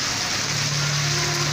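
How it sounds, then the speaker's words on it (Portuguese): Heavy rain pours steadily at night in Serra Talhada, Pernambuco, a dense, continuous hiss with no breaks and no one talking. "Começou bastante forte. Vamos ver aí como vai ficar a situação, né? Chovendo bastante mesmo."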